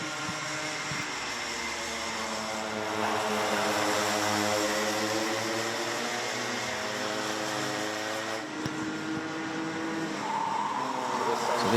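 Micro Max racing karts at a British kart championship race in sunny conditions, small two-stroke engines buzzing and whining steadily past at close to mid distance, pitch sweeping up and down as several karts pass under a continuous blended drone.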